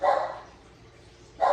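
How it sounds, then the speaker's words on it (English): A dog barks twice, close and fairly loud, with a short gap between the two barks and no talking. "Y'all excuse my dog"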